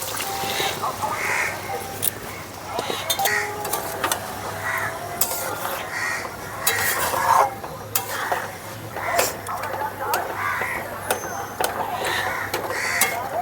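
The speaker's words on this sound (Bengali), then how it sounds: "এখন সেদ্ধ করা মটর আর আলুটা দিয়ে দিচ্ছি।" Boiled peas and potatoes go into fried-down masala for Bengali ghugni, with steady stirring, scraping and sizzling in a pan, a few louder clinks, and a faint voice in the background.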